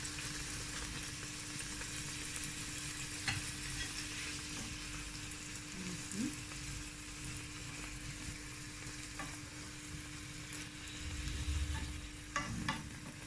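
Puri bread deep frying in hot oil gives a continuous close sizzle and crackle, with a few faint utensil taps and a brief swell of bubbling near the end.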